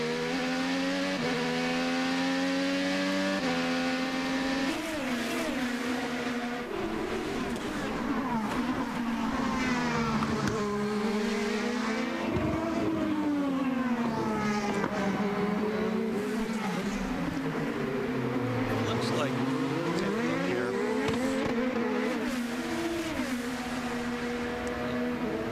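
IndyCar race cars at the Long Beach Grand Prix street circuit scream through the corners, with high-revving engine notes that rise and fall continuously as cars pass close by, loud and sustained throughout.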